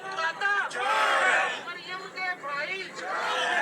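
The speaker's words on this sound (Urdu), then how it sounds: "نعرے بازی اس وقت آپ سن رہے ہیں، یہ پاکستان تحریک انصاف کے کارکنان اسلام آباد، لاہور، پنجاب سمیت" Pakistan Tehreek-e-Insaf party workers out on the street, a crowd chanting slogans in loud, rhythmic bursts that rise and fall, with voices shouting together close by.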